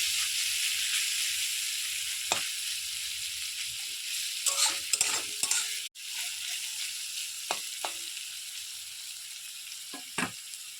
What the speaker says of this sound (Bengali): ভালোভাবে ভেজে নেব ছানাটাকে আগে